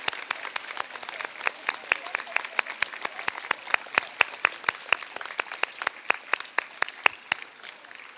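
At a 2021 high school graduation ceremony, a crowd thanks the teachers with rhythmic unison clapping: sharp, evenly spaced beats from many hands, a bit over three per second, over a soft murmur of the crowd.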